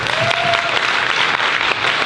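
Audience applause for the performers at an evening event, a loud, continuous wash of many people clapping from start to finish with no break.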